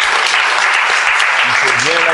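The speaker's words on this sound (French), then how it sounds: "Il faut bien l'applaudir." Audience at a school event applauds a speaker with loud, dense, continuous clapping, and a voice starts talking under it toward the end.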